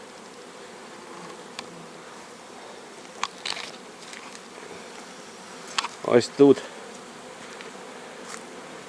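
Soft, steady buzzing of honeybees hovering over an open hive in August, a low insect drone throughout, with a few close handling bumps and a short spoken phrase.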